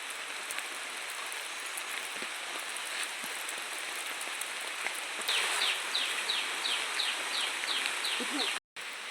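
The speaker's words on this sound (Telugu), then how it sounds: "అంటే వర్షం పడుతుంది" Steady rain patters in the open on a hillside with a soft hiss, and a bird chirps faintly in the background toward the end.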